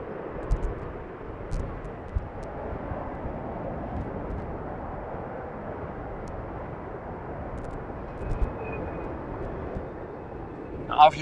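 A Boeing 747 takes off on a windy day at Amsterdam Schiphol Airport runway 36L, heard as a steady distant broadband engine roar with wind noise and occasional small knocks close by.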